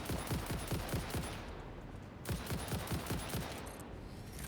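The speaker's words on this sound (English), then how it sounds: "Rifles are pretty effective at shooting beehives as well." Rifle fire in the video game Satisfactory, aimed at beehives: rapid strings of sharp, evenly spaced shots in two bursts with a short pause between them, fairly quiet and with no talking.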